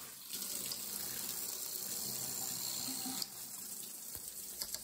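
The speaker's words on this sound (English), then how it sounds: "Here's the water pressure afterwards." A steady hiss of water spraying continuously from a freshly cleaned shower head, close and even, with a faint clunk near the end.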